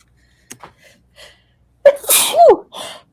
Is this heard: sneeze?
yes